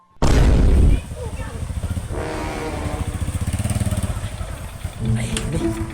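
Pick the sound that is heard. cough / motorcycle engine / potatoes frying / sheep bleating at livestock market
motorcycle engine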